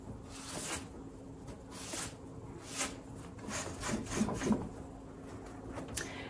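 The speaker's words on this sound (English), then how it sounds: "again, we just want to gently wipe the excess away." A cloth gently wipes excess glaze off a carved wooden pillar, giving soft, repeated rubbing strokes that swell and fade close by, with no voices.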